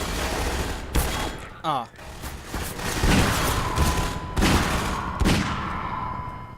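Gunfire from the video game Half-Life 2 cracks out in several sharp, loud shots spaced irregularly over a background of game noise, with a brief vocal exclamation partway through.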